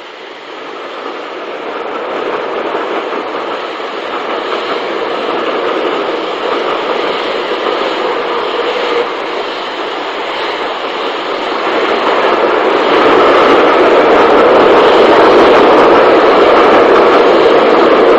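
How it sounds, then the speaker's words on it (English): A pair of steam locomotives, a BR Standard Class 4 piloting a 7F, haul a southbound express near Shepton Montague, a sustained rumbling roar that swells louder as the train draws nearer. "we see a standard Class 4 piloting a 7F on the southbound Cleethorpes Exmouth, near Shepton Montague"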